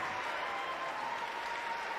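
Basketball crowd at a Super League game between Caledonia Gladiators and Surrey 89ers cheers and applauds steadily after a hustle play, a dense wash of claps and voices with no clear talk over it.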